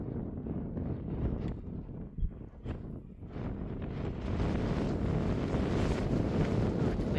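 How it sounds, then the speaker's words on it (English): Strong mountain wind rushes and buffets across the microphone in a steady roar, with low rumbling gusts building louder toward the end; no voices. "it's getting pretty windy up here in the mountains"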